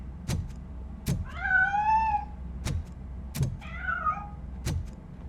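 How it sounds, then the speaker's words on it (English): A cat in the video game Detroit: Become Human meows twice in drawn-out, rising cries between sharp, repeated knocking or banging impacts, all fairly close and clear. "That cat must be hiding inside."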